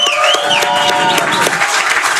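A crowd at a football fan gathering at Fieldwork Brewing Company in San Ramon claps and cheers. Steady, loud applause fills the whole moment, with whistles rising above it.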